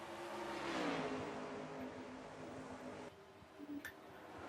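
Several race cars roar down the straightaway in a NASCAR racing game, engines droning loudly with a rising whine, then easing off after about three seconds as one car's pitch sweeps past.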